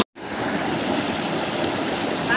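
Water rushes steadily along a hand-dug irrigation channel near a landslide site by the JaiShree River in Nepal, a loud, continuous broadband gush that starts abruptly after a brief silence and holds without pause.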